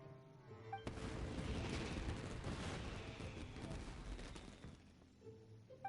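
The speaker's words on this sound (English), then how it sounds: "Yoimiya, this is turning into a bit of a fireworks display." Fireworks going off in Genshin Impact make a rapid, crackling barrage of pops and booms that starts abruptly, rolls on for several seconds at moderate volume, then cuts off sharply.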